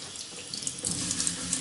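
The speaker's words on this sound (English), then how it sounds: "We wet the back of this 100 grit sheet, get it all nice and wet." Tap water runs steadily to soak the back of a 100-grit sandpaper sheet, a close, continuous splashing hiss with small gurgles and no speech.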